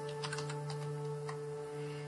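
Fingers typing a search word on a computer keyboard, several quick clustered keystrokes followed by a few sparse taps, close but soft over a steady electronic hum, with no talk.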